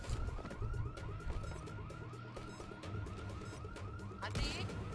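Alarm in Dying Light wailing in a rapid repeating up-and-down pattern over constant low background noise, moderately loud and steady, with a brief louder burst near the end.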